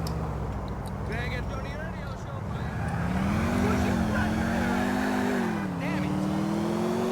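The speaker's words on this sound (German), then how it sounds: "Mit Vollgas durch die Straßen von Liberty City" A car tears through the streets of Liberty City at full throttle in GTA IV, its engine droning and climbing in pitch, then dipping and rising again, with a voice talking over it throughout.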